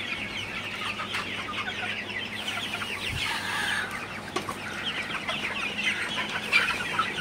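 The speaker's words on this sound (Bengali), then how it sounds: "দেখতে পাচ্ছেন মুরগিগুলা" Chickens clucking inside a poultry house during hot weather, many overlapping soft clucks and calls forming a continuous busy chatter with a steady low hum beneath, no speech.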